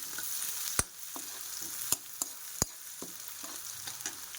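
Onions frying in hot oil with cashews and tempering seeds for an idli upma, a soft steady sizzle broken by several sharp clicks and taps of a spoon stirring the pan.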